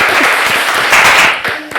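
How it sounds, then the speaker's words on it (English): A short burst of clapping from a small group at a family podcast gathering, quick close hand claps running briefly before tapering off. "Round of applause."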